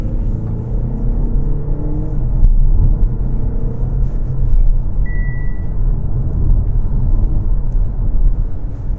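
A 2025 Audi A5 Avant driving in dynamic mode gives a steady, close engine and road rumble that holds constant throughout without clear revving or voices.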